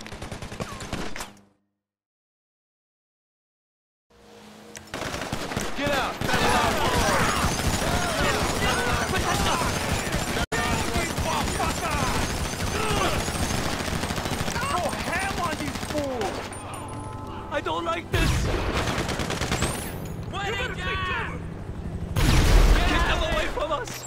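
Heavy shootout during a casino mission in GTA Online, a dense barrage of rapid gunshots and bursts following a brief silence, with shouting voices mixed in and a louder blast near the end.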